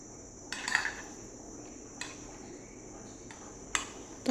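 Spoon scraping and clinking against a bowl while mixing tempered curd with chopped coriander, a few distinct taps spaced apart over a steady faint kitchen background, no talking.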